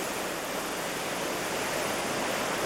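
Ocean surf rolls onto a Hawaiian beach as a continuous broadband wash of waves, steady and moderately loud, with no talk.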